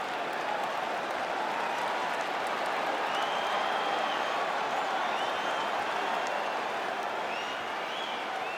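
Steady roar of a capacity crowd cheering and clapping inside a UFC arena in a PS5 fighting game, a dense continuous wash of applause with faint whistles, no talk over it.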